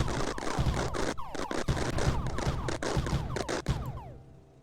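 Turrets firing in the video game Mindustry, a dense, continuous rattle of rapid overlapping shots and bursts, loud and steady, tapering off into quiet at the very end.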